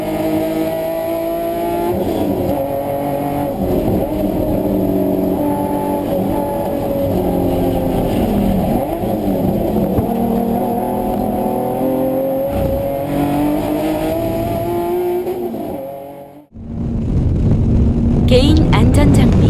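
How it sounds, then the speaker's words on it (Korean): A race car laps a circuit track, its engine droning steadily up close with shifting revs for most of the stretch before cutting off and giving way to a louder rushing burst; a voice speaks over it. "코너 탈출 후 코스의 좌우 가장자리로 주행합니다"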